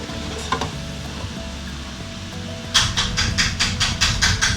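Kalmati dumplings deep-frying in oil at a fryer in Zanzibar, a steady close sizzle and crackle that turns louder and more pulsing as the pieces are lifted out of the hot oil.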